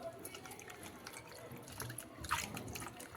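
Water drained off a freshly washed ball of homemade butter in a home kitchen, a steady trickling and splashing pour, close and moderately quiet, with a brief louder splash near the end.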